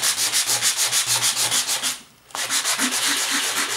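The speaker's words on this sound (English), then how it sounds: "This is our sanding block, and I'm going to distress and make our white core show up." Rapid rhythmic rasping of a sanding block rubbed back and forth across paper, close up, with a brief pause midway before the scraping resumes.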